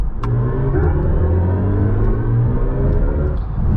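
A steady, loud 2024 BMW i5 M60 boost-mode acceleration sound, a smooth synthetic hum that holds and swells without gear changes, alone for a few seconds.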